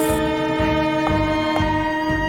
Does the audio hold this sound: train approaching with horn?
yes